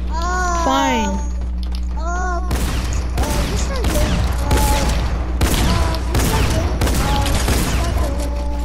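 Laser weapon shots ring out in the video game Fortnite as a rapid series of sharp, loud zaps in quick rhythm, with whistling tones and a player's voice mixed among them.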